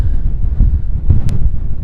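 Heavy wind buffets the microphone in a continuous low rumbling roar, gusting up and down throughout.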